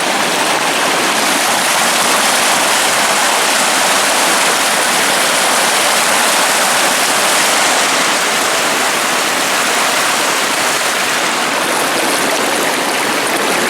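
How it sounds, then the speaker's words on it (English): Rainbow Falls in Gorges State Park pours a heavy, fast-flowing volume of water in a loud, steady roar that stays constant throughout, with no voices over it. "Sheer quantity of water coming down here. The flow rate is insane."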